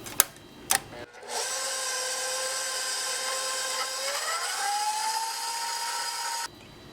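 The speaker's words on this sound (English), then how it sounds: "And I'm going to whisk this all together." An electric mixer whisks an egg into cake batter, a steady high whine that starts abruptly after two brief knocks, holds, rises slightly in pitch midway and then cuts off.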